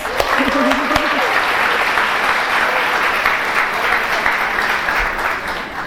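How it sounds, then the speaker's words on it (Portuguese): A packed room at a women's church service breaks into applause, continuous crowd clapping with a voice briefly audible over it at the start. "Palmas para nós"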